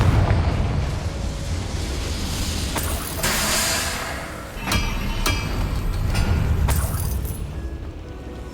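Fiery explosions and booming blasts from combat spells in Hogwarts Legacy, with a rumbling roar broken by several sharp cracking bursts at irregular moments over about eight seconds.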